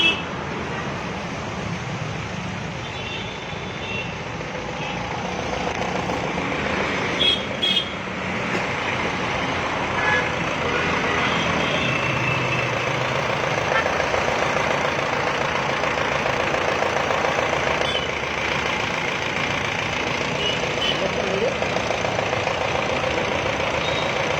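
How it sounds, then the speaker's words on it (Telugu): A 2500cc Baleno car engine running and idling steadily, a continuous low rumble held at an even level throughout, with a couple of brief clicks early on and no talking. "ఒకసారి మీరు ఇంజిన్ నాయిస్ కూడా అబ్జర్వ్ చేయండి"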